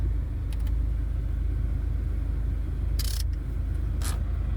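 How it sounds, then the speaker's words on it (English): A Dodge SRT-4 idles with a steady low engine rumble as its air conditioning compressor engages, marked by a couple of brief sharp clicks near the end, with no talking. "You can hear the AC compressor kick in."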